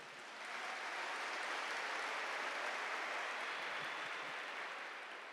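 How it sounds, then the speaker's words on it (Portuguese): A church congregation claps together in sustained, dense applause that swells in within the first half second and holds steady at a moderate level, with no talking over it. "Dá uma salva de palmas para a palavra de Deus"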